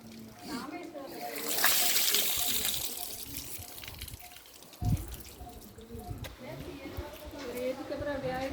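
Water splashing and trickling at the Kanniya hot water springs in Trincomalee, Sri Lanka, heard close by with people talking over it.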